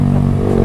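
A motorbike comes close past on the wrong side of the road during a touring ride, its engine a loud, steady drone with clattering and a brief revving swell.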